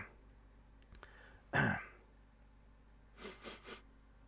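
One loud, close throat clear in a quiet room, followed after a pause by three quick, softer coughs in a row.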